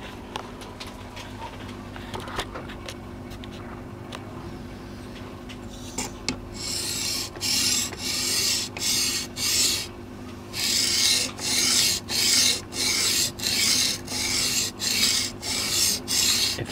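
A hand file rasps along the bevel of a steel machete in steady, evenly spaced strokes, loud and close, after a quieter stretch of faint handling noise.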